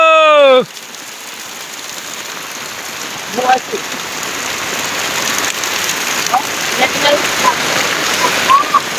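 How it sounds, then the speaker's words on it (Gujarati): Heavy downpour at Arvindbhai's cattle shed in a Gujarati village, a loud dense roar of rain on surfaces with scattered splashes and drips, continuous and close, after a brief voice at the start. "અરવિંદભાઈના તબેલામાં ફૂલ વરસાદ આવી ગયો છે"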